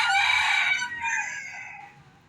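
A pure red junglefowl (labuyo) rooster, caught in the mountains far from houses, crows once loud and close, the call trailing off over about two seconds with no talk.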